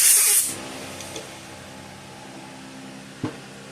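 A short, loud blast of compressed air blowing off the low idle screw on the carburetor of a 23 hp Kohler engine, lasting about half a second, then quiet room tone with a couple of faint taps.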